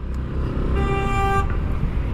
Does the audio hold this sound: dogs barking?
no